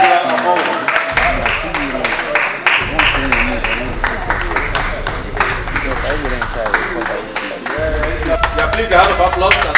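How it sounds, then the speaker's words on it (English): An audience at an event in a Nigerian Nollywood film claps for Angel Abo, a loud, dense patter of hands that runs the whole time alongside voices and background music. "please, a round of applause as it comes"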